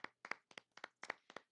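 A few people clap for moms in short, uneven bursts, close and fairly quiet, with roughly seven paired claps spread over a second and a half.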